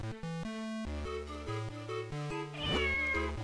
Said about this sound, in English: Did you see that cat looking at me?